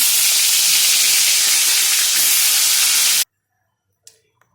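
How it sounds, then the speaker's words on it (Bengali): Fish heads fry lightly in hot oil with a loud, steady, dense sizzle for about three seconds, then it stops abruptly, leaving near silence with a couple of faint clinks. "মাছের মাথাগুলো হালকাভাবে ভেজে নেব।"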